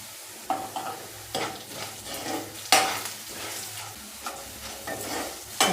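Onions with salt sauté in a pan for a ragi semiya upma, a steady sizzle punctuated by repeated stirring scrapes and spatula knocks, close and moderately loud with no talking.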